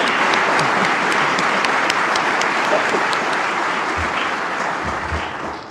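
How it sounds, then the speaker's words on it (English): A large audience applauds at a police recruit class graduation, loud continuous clapping that holds steady before tapering slightly at the end. "Please give them another round of applause."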